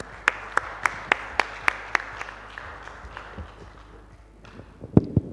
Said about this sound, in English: a big round of applause to you, ladies and gentlemen, for making this a big success